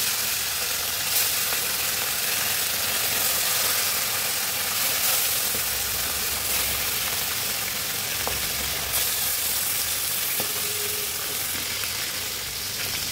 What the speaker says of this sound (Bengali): এখন মাছগুলো দিয়ে ভেজে নেব।